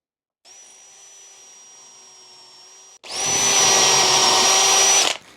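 A drill bores dowel holes into wood through a dowel jig, one steady whining run followed by a louder, closer high-pitched drilling run that stops abruptly.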